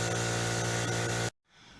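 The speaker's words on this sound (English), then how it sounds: "I'm going to have to teach my compressor a little bit of etiquette as far as making noise at the wrong time." An air compressor runs loud and steady in a workshop during a mini house rafter build, droning continuously before cutting off abruptly, leaving a low hush.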